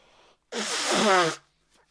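A single loud, forceful nose blow, a short honking burst of air lasting under a second, close to the microphone, with faint sounds before and after.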